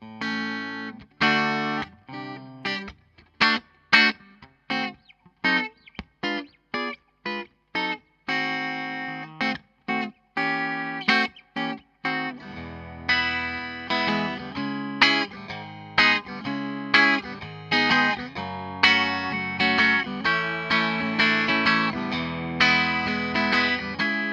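Clean electric guitar, a Michael Kelly 1957, on both pickups with coils split, bright thin tone, played as choppy chords and single notes, then sustained strummed passages alone.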